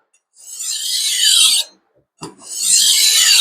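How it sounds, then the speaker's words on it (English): A kitchen knife is drawn across a whetstone in long rasping strokes, two sustained gritty passes separated by a short pause and a light knock, close and clear. "I've also got my finger on the blade to provide downward force, but I'm not trying to grind the stone off"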